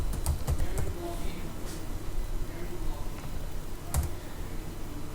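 Someone types on a computer keyboard while entering code, producing quick, close clicking keystrokes in short bursts over a quiet room tone.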